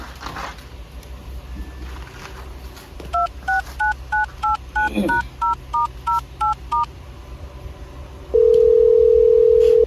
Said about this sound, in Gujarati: તમારા બાપાને ફોન લગાવી આલજો મને